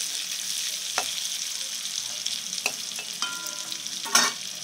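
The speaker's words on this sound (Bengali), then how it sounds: "এবার ফোড়নে আমি পেঁয়াজ দিয়ে দিলাম, পেঁয়াজটা একটু লাল লাল করে নেবো।" Onions fry in hot oil with tempering spices, giving a soft continuous sizzle broken by a few sharp clinks and stirring scrapes close to the pan.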